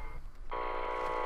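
A steady electronic reactor overheat alarm in a Minecraft Feed The Beast game switches on partway through, a harsh buzzing beep that holds at constant pitch, clear and unaccompanied.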